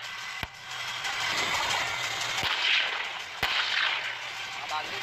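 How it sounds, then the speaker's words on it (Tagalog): Light armored vehicles of the Philippine Marines and Army fire during the Balikatan exercise, sharp distant cracks spaced about a second or two apart over a steady roar of wind and engine rumble. "Habang sunod-sunod naman na pinaputok ang light armored vehicles ng Philippine Marines at Philippine Army"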